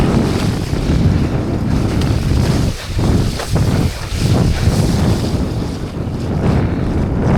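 Strong wind gusting over open water during a light-wind parawing start, heavy broadband wind buffeting the microphone with wave wash underneath, steady and loud with a brief lull midway.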